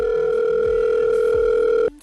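A telephone tone hums as a call is placed, a loud, steady two-note drone held for almost two seconds before it cuts off abruptly.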